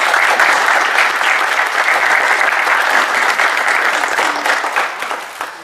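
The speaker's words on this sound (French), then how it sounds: "si on peut tous applaudir Titi très très fort" An audience at a Paris football tournament held for an association claps loudly for an honoree: a thick, sustained round of applause that slowly tapers toward the end.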